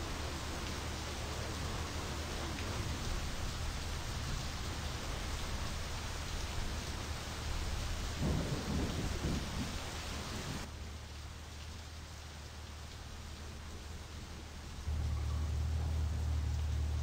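Rain falls in the My Summer Car game as a steady, dense hiss that shifts in texture partway through, with a low rumble swelling near the end that may be thunder.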